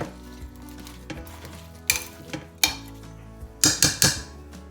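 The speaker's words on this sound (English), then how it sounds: "just give this a good mix around" Beef and lentil curry with onions and spices being stirred in a slow cooker: a spoon scrapes and knocks against the pot in a few uneven strokes, with soft wet squelching between them, close and alone.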